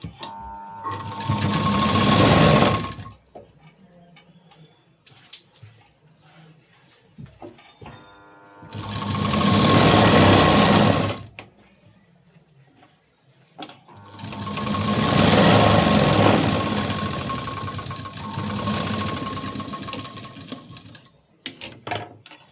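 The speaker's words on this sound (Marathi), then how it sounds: "आता इथे कडेला एक मी शिलाई देऊन घेणार आहे." A sewing machine stitches the edge of a sleeve in three loud, close bursts of rapid whirring, with quiet handling pauses between the runs.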